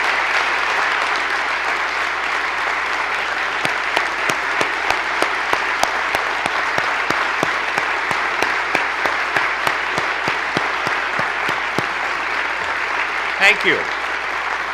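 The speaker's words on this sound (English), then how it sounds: "Let's give them a round of applause for walking across the entire UP." An audience at a state-of-the-state address applauds military members, a steady wash of clapping lasting throughout with sharper individual claps standing out, and a brief spoken thanks near the end.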